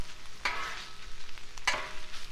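Burger meat frying on a Blackstone griddle, a continuous hissing sizzle with a couple of sharp spatula scrapes, close and fairly loud, no one talking.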